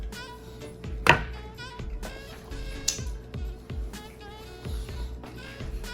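A knife chops grilled, lime-marinated carne asada on a cutting board, a steady series of close, dull thuds and cuts repeating at an even rhythm, with faint background music and no talk.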